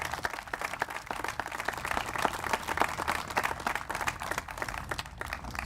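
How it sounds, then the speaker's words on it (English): A crowd applauds a city councilor at a POW and MIA chair dedication in Lawrence, with a steady spread of hand claps from a moderately distant audience that carries on throughout. "So I think a round of applause for our Councilor Plan for all the effort he's done."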